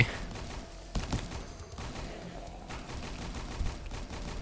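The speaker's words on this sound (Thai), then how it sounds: "ยิงหมดไปก่อนนะผมแล้วก็เปลี่ยนแม็กใหม่" Bursts of rapid machine-gun fire crack in quick succession amid Roblox game background noise, fairly quiet overall with a few sharper shots standing out.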